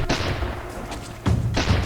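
Heavy artillery cannon booms from a Roblox game, two or three loud blasts with sharp attacks and a short gap between them.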